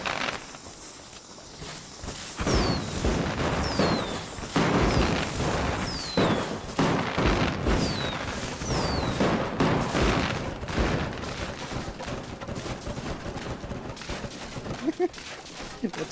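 Fireworks in the video game Enshrouded: a string of rising whistles pops into crackling, rattling bursts that fire in quick succession for several seconds and then thin into scattered crackles.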